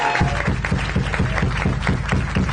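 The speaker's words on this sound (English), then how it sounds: "Let's give them a round of applause." Crowd applause at a hardcore punk show in Washington, D.C., continuous clapping with a steady rhythmic thump pulsing underneath, fairly loud and sustained throughout.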